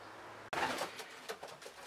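Racing pigeons in a breeding loft, with soft cooing calls rising after a brief pause, fairly close and moderately loud, a few repeated coos over steady loft noise.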